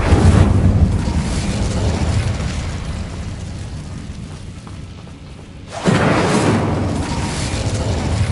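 An Incendio fire spell cast in Hogwarts Legacy, a loud deep whooshing roar that rumbles for several seconds, fades, then flares up again in a second heavy burst.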